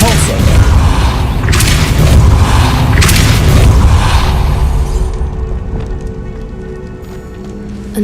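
A Depulso spell in Hogwarts Legacy hits with a heavy booming blast and a dense rush of crashing, rumbling game sound, then tails off into quieter effects and music.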